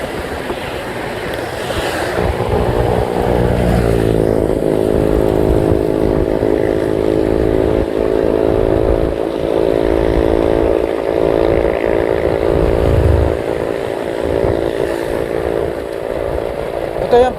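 A motorcycle engine in Dulag drones steadily and close by from a few seconds in, a continuous even hum over rushing wind and road noise, with no talk.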